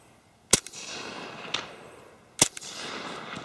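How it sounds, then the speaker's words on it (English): Two sharp, close shots from a suppressed HK Mark 23 pistol fitted with a Silencerco Osprey 45 suppressor and firing Underwood 230 grain ammunition, widely spaced, each a crisp crack with a short tail, plus a fainter tick between them. "here's a couple rounds of the Underwood 230 grain with the H&K"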